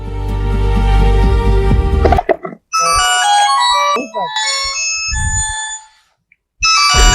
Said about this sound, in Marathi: आला बा साहेबाचा फोन.